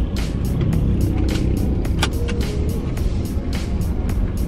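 Road traffic rumbles steadily nearby, with continuous engine drone and passing vehicles forming a dense, unbroken wash of noise.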